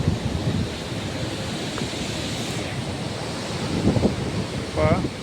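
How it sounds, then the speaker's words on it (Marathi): Water pours from a full dam on the flooded Godavari river in a steady, broad rushing roar, with wind buffeting the microphone and faint voices in the background. "पाण्याचा आवाज येत असेल तुम्हाला"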